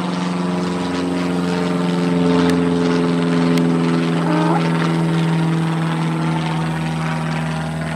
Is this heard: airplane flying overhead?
yes